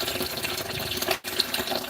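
Liquid pours steadily into a container, a continuous close splashing fill that breaks off for a moment near the middle before resuming.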